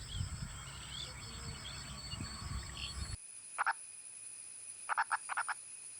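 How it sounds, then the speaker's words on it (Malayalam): A Western Ghats burrowing frog calls as short, sharp croaks in small clusters, first a single pair and then a quick series, standing out against a quiet night background of faint insects after a louder, noisier opening. "സഹ്യ പർവ്വത നിരകളിൽ മാത്രം കാണപ്പെടുന്ന തവളയാണിവർ"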